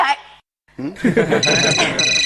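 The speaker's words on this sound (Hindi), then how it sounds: "इतनी रात कौन कब वक्त फोन कर रहा है?" A telephone rings at night, a steady electronic ringtone with repeating high tones that starts after a brief gap and continues under overlapping talk.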